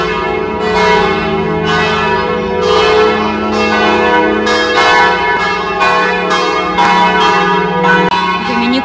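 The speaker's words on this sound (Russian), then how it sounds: "громко звенят колокола." Church bells ringing loudly in a medieval town, with repeated strikes in an irregular overlapping rhythm and long ringing tones between them, no voices.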